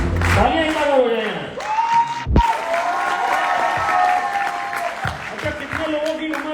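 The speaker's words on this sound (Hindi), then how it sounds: "तालियां इतना हो जाए।" An audience at a motivational business event applauds and cheers as a guest is called to the stage, a full crowd sound mixed with a speaker's voice and some whoops.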